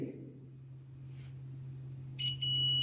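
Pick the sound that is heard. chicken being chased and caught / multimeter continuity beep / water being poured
multimeter continuity beep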